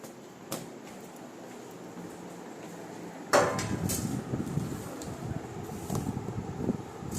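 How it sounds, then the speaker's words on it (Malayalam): A pot is washed in a home kitchen: a faint tap early, then a loud metallic clank followed by several quieter clatters and knocks of dishes over a low background hiss. "ഞാൻ ഈ പാത്രം കഴുകിക്കൊണ്ട് വെച്ചേ"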